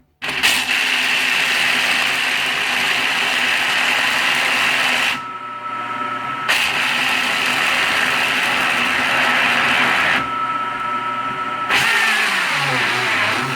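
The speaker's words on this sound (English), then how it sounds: "we're going to start by pressing the grinding preset function and just start blending" A JR Ultra Touch 3 Quantum brushless blender grinding nut butter on its grinding preset, a loud steady high-pitched motor whine close up, cutting out briefly twice before resuming at full speed.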